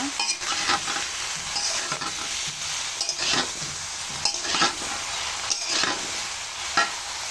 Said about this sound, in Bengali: ধনিয়ার গুঁড়া, আদা রসুন, এটা একসাথে মিশিয়ে নেব